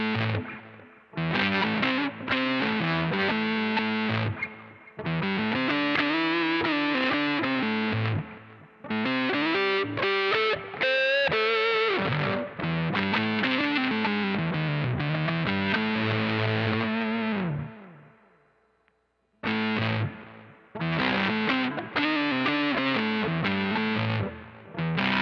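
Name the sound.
Line 6 HX One sub-octave fuzz guitar effect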